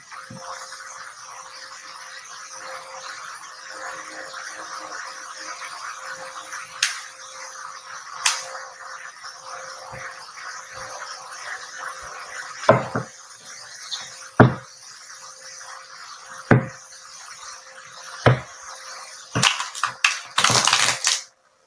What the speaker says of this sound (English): Let's just shuffle a little bit more.